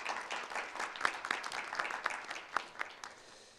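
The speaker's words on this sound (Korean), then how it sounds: "심태호 파트너님 박수로 맞이해 주시기 바랍니다" Audience applause welcoming a speaker at a retail industry forum, a soft, somewhat distant patter of many hands with a few sharper individual claps standing out, gradually fading.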